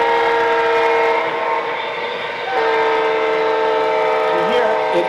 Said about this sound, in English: you hear it actually shifts, the Doppler shift of the sound and going away